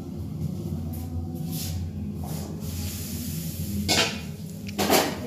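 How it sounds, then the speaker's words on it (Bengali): Potatoes frying in a home kitchen pan give a steady, close sizzling hiss, with two brief clatters of utensils near the end and no talking. "আলু ভাজছি।"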